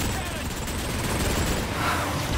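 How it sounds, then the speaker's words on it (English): Dense, rumbling bursts of gunfire and explosions from the Decepticon war cannon in the video game Transformers: Fall of Cybertron blend into a continuous barrage, loud and close, with a chaotic battle din throughout. "The Decepticon war cannon!"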